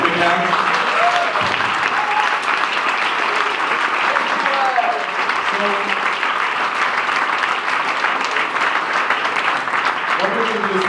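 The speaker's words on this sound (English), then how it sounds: "So that means we're going to start with a big hand." Audience at the Latitude 59 final startup pitches applauds steadily for the full stretch, a dense, loud and even wash of clapping with a few faint voices mixed in.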